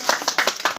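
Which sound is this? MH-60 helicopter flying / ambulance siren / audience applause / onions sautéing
audience applause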